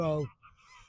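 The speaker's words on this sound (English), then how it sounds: "They ain't farmyard gooses, but they are very noisy." A wild goose, not a farmyard bird, gives a single loud, nearby honk that breaks off quickly, followed by faint rustling background noise.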